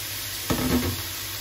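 Marinated minced pork hits a hot pan and is stir-fried for a pad kra pao style dish, a sudden close burst of sizzling that swells briefly and then fades back into a quieter background hiss.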